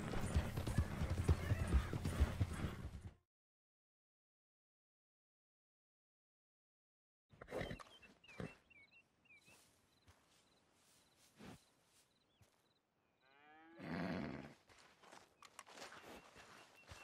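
An Arabian Snow Horse in Red Dead Redemption 2 clops its hooves in uneven bursts and gives a short whinny, after a stretch of silence, heard close and moderately loud.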